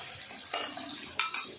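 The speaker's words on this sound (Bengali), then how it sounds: "এই যে এই মাছগুলো দেখি কতটা কি ভাজা হলো" Fish frying in a pan at home, a soft steady sizzle with a few brief stirring or scraping clatters from a spatula.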